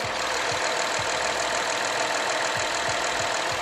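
A 3.5-litre V6 car engine with VCM idles steadily at about 60,000 km, a smooth continuous rumble with faint rhythmic low pulses, heard up close with no talking.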